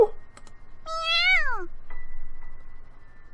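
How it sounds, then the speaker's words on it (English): A small black kitten in a video game gives one clear, sweet meow lasting about a second, rising then falling, alone in a quiet scene with a couple of faint clicks. "The transceiver cat meows sweetly in reply."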